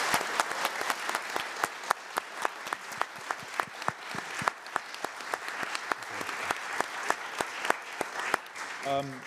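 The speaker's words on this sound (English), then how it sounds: "Can we give them all a round of applause?" A hall audience gives a panel a round of applause after a talk on justice for Palestine, with steady dense clapping and a few sharper claps standing out, ending in a brief voice.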